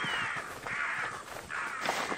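In Assassin's Creed Odyssey, a crow gives three harsh, raspy caws in steady succession, loud and close, with no talk over them.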